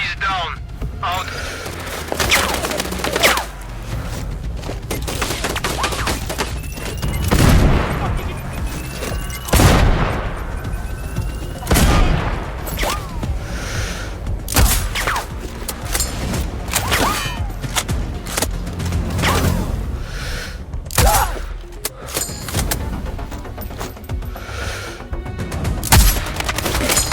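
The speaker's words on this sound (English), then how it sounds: "Someone's firing! We've got hostiles in the area!" Repeated gunfire and heavy booms from the sniper video game Sniper Ghost Warrior Contracts 2, with loud, irregular shots and impacts spread across a continuous battle, mixed with game ambience and occasional voices.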